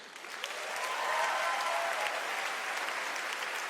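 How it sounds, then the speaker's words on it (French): A gala audience breaks into loud, sustained applause that swells quickly and holds as a dense wash of clapping from a large crowd indoors. "Applaudissez-vous"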